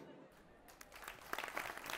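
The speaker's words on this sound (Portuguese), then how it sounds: "Palmas." Crowd applause at an event in the video game Youtubers Life swells in, dense crackling clapping over a steady background hum, with voices murmuring beneath.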